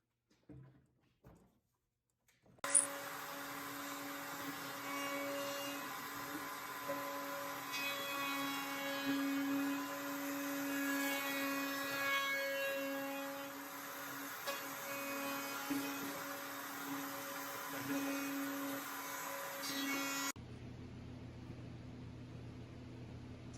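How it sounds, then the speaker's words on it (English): A router fitted with a 1/4 or 3/8 inch round-over bit cuts along a wooden guitar neck for a Les Paul style build, a steady whining drone that starts abruptly, runs about seventeen seconds, then cuts off, with no voices. "I think it's a 1/4 inch, maybe a 3/8 inch round over bit"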